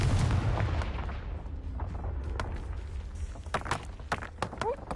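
The Confringo blasting spell in Hogwarts Legacy erupts as a loud booming explosion, followed by scattered cracks and rumbling debris that trail off.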